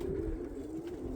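Roller pigeons at a loft coo softly, a low steady cooing close by against quiet background.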